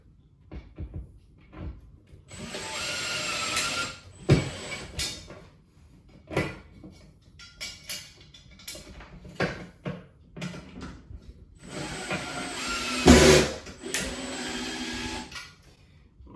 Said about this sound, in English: So I'm going to go ahead and mount the rail using the provided screws to go with those anchors.